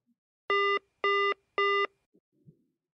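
A telephone busy tone after a call is hung up, three evenly spaced beeps, clear and close, followed by faint handling noises.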